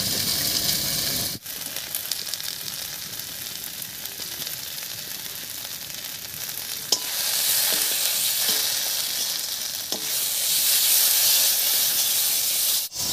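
Onion masala with salt and turmeric frying in a pan for a Bangladeshi dried fish and potato dish, a loud continuous sizzle that swells at times, with a few sharp spoon scrapes and taps.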